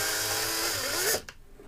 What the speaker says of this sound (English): I want to drill this just a little bit more.